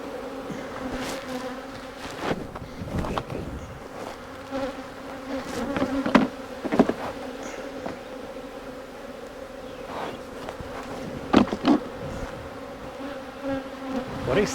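Swarm of honeybees buzzing around an open beehive while swarm cells are split off into new colonies, a dense close drone throughout with individual bees zipping louder past now and then.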